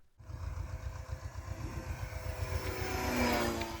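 A fully 3D-printed radio-controlled PC-21 model plane flies with its electric propeller motor running, a continuous loud buzzing drone that rises steadily in pitch and intensity, heard alone without voices.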